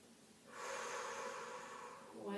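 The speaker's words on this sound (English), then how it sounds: "we're going to fully inhale." A deep, drawn-out inhale through the nose during a beginner warm-up breathing exercise, a steady airy rush lasting nearly two seconds, close and fairly loud, with no talk over it.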